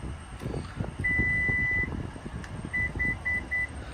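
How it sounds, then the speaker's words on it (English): Short electronic confirmation beeps from the power rear liftgate of a 2020 Toyota RAV4 Hybrid Limited: one long tone, then a quick series of three to four brief beeps, heard close over low background rumble. "When you hear the 3 beeps, that's going to reprogram your open height."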